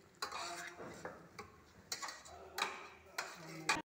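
A spoon stirs and scrapes spinach and aromatics roasting in a pan while cooking Indian-style food, giving irregular clinking taps and scrapes over a soft sizzle, close and moderately loud.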